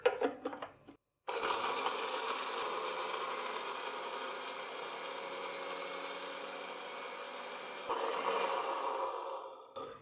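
A blender grinds roasted spices into powder for a chicken roast, starting abruptly after a brief pause and whirring loud and steady for several seconds, rising slightly near the end before stopping.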